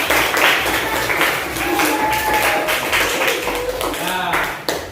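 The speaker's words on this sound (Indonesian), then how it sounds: "lebih baik kita tepuk tangan dulu sebagai tanda rasa berhasil kita dalam diskusi ini" Students in a classroom clap together at the end of a discussion, dense clapping throughout with voices talking and calling out over it.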